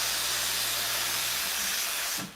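An El Rocio Manus S heat-exchanger espresso machine's steam wand hisses in a loud, steady, broadband rush that cuts off abruptly at the end.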